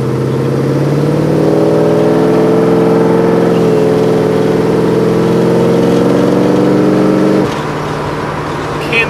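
A 383 stroker V8 in a 1957 Chevrolet Bel Air restomod holds a loud, steady, throaty rev, then drops abruptly to a lower idle-like rumble near the end.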